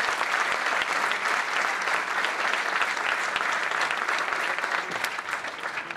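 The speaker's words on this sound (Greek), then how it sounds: "Ένα μεγάλο χειροκρότημα για τα παιδιά" Applause at an awards ceremony honouring top Greek athletes, a large audience clapping steadily and loudly for about six seconds, dense and continuous without speech over it.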